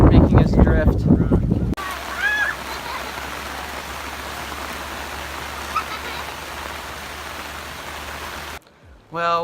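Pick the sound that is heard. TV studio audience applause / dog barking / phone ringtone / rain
rain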